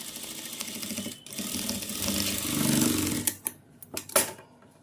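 Sewing machine stitching a money pocket near a belt, a rapid mechanical whirring that speeds up and steadies, then breaks into short bursts and stops, heard close and alone.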